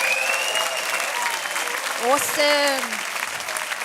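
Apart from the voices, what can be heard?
audience applause at a conference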